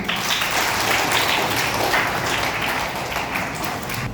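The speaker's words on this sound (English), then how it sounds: "Give a clap, children." Schoolchildren at a road safety and traffic awareness assembly clap together in a sustained, dense burst of applause that holds steady throughout with no voices on top.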